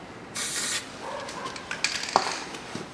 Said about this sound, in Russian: Также брызгаем резьбу